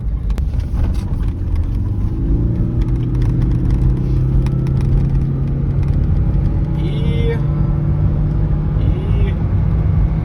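A 2009 Toyota Prius drives on asphalt at speed, a steady low road rumble and whir of tyres and drivetrain running continuously beneath someone talking over it.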